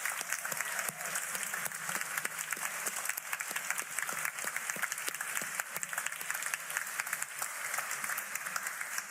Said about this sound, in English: if you could give them one last round of applause